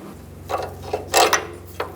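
A ratchet works loose a lower control arm bolt on a 2005-15 Nissan Xterra, giving a few short, close mechanical clicking bursts in a quiet garage with no speech.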